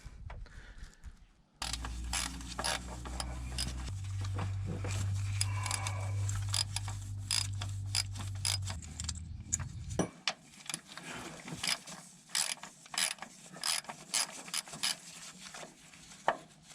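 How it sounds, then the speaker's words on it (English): A hand ratchet clicks away at the transmission bolts on an International 4700 truck, rapid close metallic ratcheting in bursts with clanks, first over a running low drone, then in quieter intermittent strokes. "now I just need to worry about getting the bolts out of the transmission itself"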